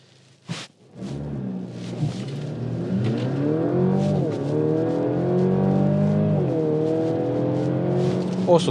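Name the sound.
Mercedes-Benz GLC accelerating from a standing start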